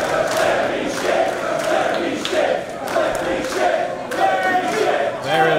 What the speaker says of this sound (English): There are some competing chants here.